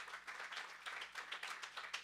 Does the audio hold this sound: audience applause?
yes